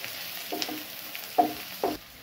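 Curry leaves and green chilies sauté in a pan with a low, close sizzle, broken by three short scraping stirs.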